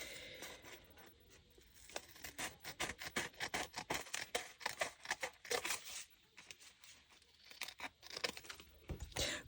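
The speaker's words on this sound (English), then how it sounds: "I'm going to snip that off because it'll probably rip if I try and cut it with my knife" Paper being snipped and crinkled for junk journal ephemera at a desk, a quick run of close, crisp cutting and rustling strokes at low volume.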